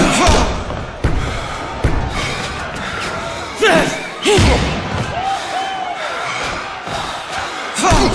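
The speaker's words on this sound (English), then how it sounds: "He's pounded hard by a haymaker." Punches land in a Fight Night Round 3 career-mode boxing bout on Xbox 360 as several loud, sharp thuds and slams at irregular intervals, over crowd noise and a commentator talking throughout.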